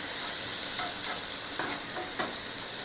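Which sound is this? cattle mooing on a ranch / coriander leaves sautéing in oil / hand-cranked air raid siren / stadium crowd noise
coriander leaves sautéing in oil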